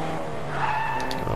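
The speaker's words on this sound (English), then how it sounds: "He just has a normal car. And he's awful at driving." Ordinary car in Fortnite skidding, a sustained tire squeal with engine drone underneath, loud and close throughout the brief moment.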